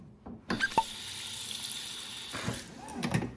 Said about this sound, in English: Gonna need to add some water to this.